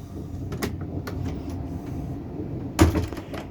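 A small compartment door on an XPT passenger train clicks and slides open with a sharp latch knock, set against the low rumble of the moving train and scattered light rattles.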